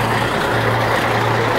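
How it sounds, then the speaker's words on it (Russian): A bus engine runs steadily nearby at a tourist stop on Tenerife in the Canary Islands, a continuous low idling rumble with no pauses and no one talking. "Так, кажется, это наш автобус."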